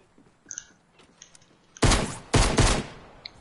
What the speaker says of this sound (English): Look, he's shooting.